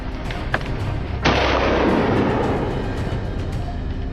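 A rifle shot during a wild boar hunt on a snowy hillside lands as one sharp, loud crack. A broad rolling echo follows and fades over a few seconds, with some faint earlier clicks before it.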